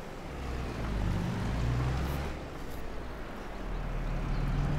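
A medium tractor driving in the Farming Simulator 22 video game, a steady low engine drone with shifting rumbling tones and a broad noisy wash, continuous throughout with no talking.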